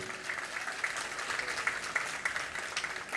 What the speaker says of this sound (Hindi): तो जोर से तो ताली बजाओ देखें।